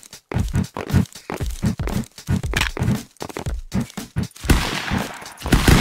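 Gunfire in the Stick Fight video game, rapid bursts of shots and thumps in an uneven rhythm, loud and close, with short gaps between volleys.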